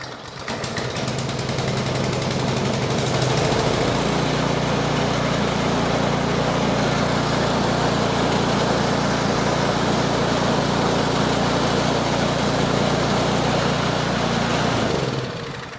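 A Troy-Bilt 2420 snow blower engine catches after a pull start and runs steadily at a loud, close, even drone with no surging, then cuts off near the end.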